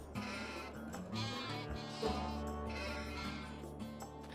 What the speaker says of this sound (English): It's early morning in June on the farm, and most of the sheep are still sleeping.